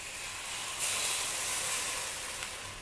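Minced pork frying with curry paste in a hot pan over medium heat, a splash of water added; a steady close hiss of sizzling and steam that swells sharply partway through and holds, with no voices.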